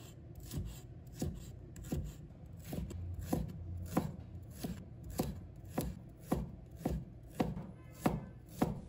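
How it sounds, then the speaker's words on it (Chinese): A knife chops through shallots on a cutting board in a steady series of sharp, evenly spaced thuds, close and moderately loud, with no talking. "再准备1把红葱头，"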